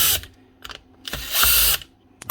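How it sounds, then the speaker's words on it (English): A faulty Makita cordless drill starts and stops in bursts, with whirring motor runs of varying length and a longer steady spin near the middle, loud and close. "Only doing it when I rotate the drill certain ways."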